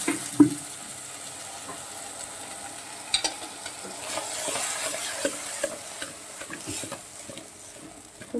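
Eggplant pieces cook in a pan for a Telugu eggplant and green pea masala curry, with a soft low sizzle and the scrape and clatter of a spoon stirring at intervals, one sharp clack near the start.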